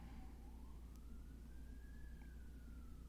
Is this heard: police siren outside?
yes